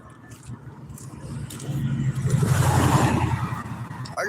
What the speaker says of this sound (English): There goes that old truck.